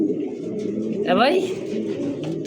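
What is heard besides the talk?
pigeons cooing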